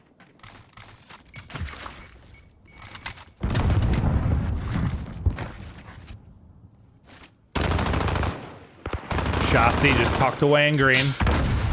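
Call of Duty match gunfire at a Seattle Surge vs Dallas Empire league game, with bursts of rapid automatic fire and heavy blasts broken by short pauses, mixed with a caster talking over the action.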